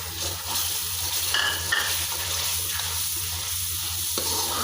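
Browned onions frying with ginger, garlic and green chili paste in a pan, a steady close sizzle with stirring scrapes throughout and a few faint utensil clinks.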